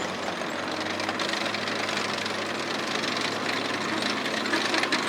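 A Nashorn WWII German tank destroyer engine runs in a steady low rumble with continuous mechanical clatter at a Tankfest display, the noise constant throughout without voices.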